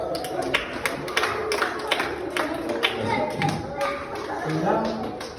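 Scattered clapping from a children's audience at a church children's service, uneven taps and claps mixed with children's voices and talk throughout.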